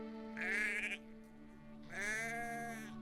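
Sheep inside a sheep house on a mountain farm bleat twice, two loud, wavering calls close by, separated by a brief pause.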